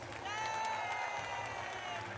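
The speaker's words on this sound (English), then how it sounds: "Give Martha a big round of applause" Faint crowd applause in a Paralympic wheelchair basketball arena in London, greeting a six-year-old girl, Martha, a steady distant wash of clapping with tonal voices and cheering carried over it.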